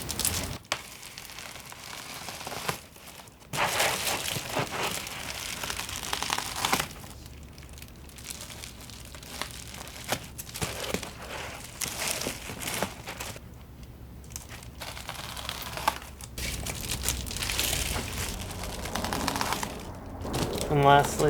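Reflectix foil-bubble insulation sheets being cut to length and crinkled for car camping window covers, a steady close crackling and rustling that carries on for a long stretch with brief pauses.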